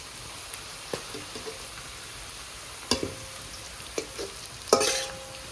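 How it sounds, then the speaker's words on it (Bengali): Bay leaf and dried red chili go into hot oil in a pan: a faint, low sizzle is broken by several sharp crackles and stirring clinks, with a brief louder burst of spitting near the end. "তেজপাতাটা প্রথমে দিতে ভুলে গেছিলাম তাই এখনই দিয়ে দেবো আর এই যে সাথে আছে শুকনো লঙ্কা দিয়ে দেবো"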